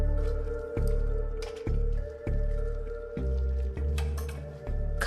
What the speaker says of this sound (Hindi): खाल इस तरह से निकल जाती है।